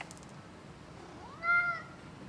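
A single clear cat meow, rising then falling, close by over a quiet room hiss.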